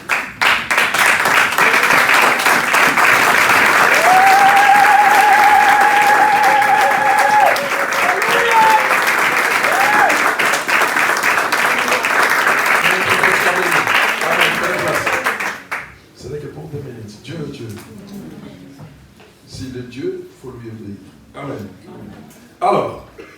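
A church congregation at a Sunday service bursts into loud, sustained applause and cheering that fills the room for about fifteen seconds, then drops away into quieter scattered voices and a few lingering claps.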